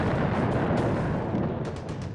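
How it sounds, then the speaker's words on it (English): Sustained World War I artillery bombardment, a dense rolling rumble of distant gunfire and explosions with sharper thuds standing out, loud and continuous throughout. "after 7 days of bombardment, the British artillery had neither silenced the German guns nor destroyed their defences"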